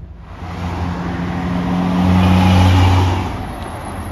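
Passing cars on a Malibu street off Las Flores near Pacific Coast Highway on a Saturday, a steady engine drone with low tonal hum that swells toward the middle as a vehicle goes by, continuous and moderately loud.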